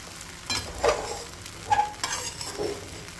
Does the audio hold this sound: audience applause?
no